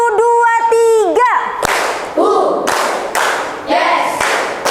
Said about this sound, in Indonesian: Sekali lagi, tepuk 1, 2, 3.